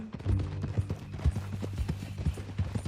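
Horse hooves clip-clop at a relaxed walking pace in the Red Dead Redemption 2 video game, the steady rhythmic thuds close and clear over a faint background, with no voices.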